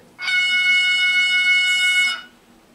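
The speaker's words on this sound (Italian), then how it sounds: "Tasto 3, tromba d'aria." One sustained air horn blast from an ACME FS E444 model locomotive's digital sound, loud and even, holds for about two seconds before stopping abruptly, with no other sounds around it.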